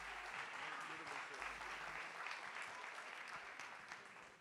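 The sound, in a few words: church congregation applauding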